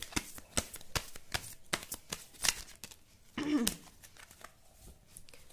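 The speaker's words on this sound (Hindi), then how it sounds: "एक कार्ड निकालते हैं कब तक के लिए।" A tarot deck gives a run of quick, crisp card flicks and clicks, then a papery slide as one card is pulled out, followed by softer taps.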